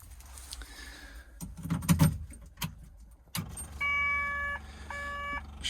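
Keys jangle and an ignition key clicks on in a cold, non-starting dumper, followed by a short run of steady electronic warning chimes from the dashboard, heard close up with no talk.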